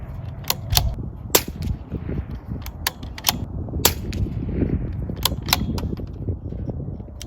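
A Bergara B14R rifle fires a group of shots at targets, a series of loud, sharp cracks spaced irregularly over several seconds, each with a brief echoing tail over a steady outdoor background.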